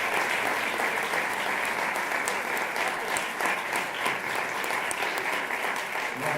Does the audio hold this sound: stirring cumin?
no